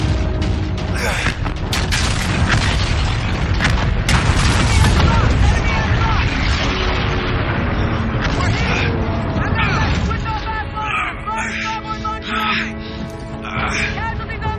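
Dense, continuous barrage of gunfire and deep booming explosions in a Call of Duty Infinite Warfare battle, loud and chaotic throughout, with shouted voices mixed in and the blasts thinning slightly toward the end.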